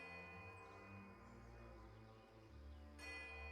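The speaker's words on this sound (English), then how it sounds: "Or, I guess it is the tolling of a single bell." A single bell tolls in Pillars of Eternity II: Deadfire, with sustained ringing tones layered over a steady ambient background and a brighter strike near the end.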